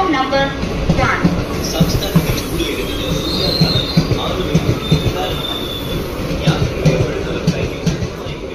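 A train pulls into a platform at Chengannur railway station, a loud, steady rumble of rolling wagons with rhythmic wheel clatter and high squeals throughout.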